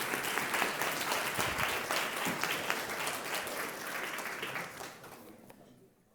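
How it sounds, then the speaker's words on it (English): A summit audience gives a full round of applause as a speaker takes the stage, dense steady clapping that gradually tapers off and fades toward the end. "please give her a round of applause as she joins the stage"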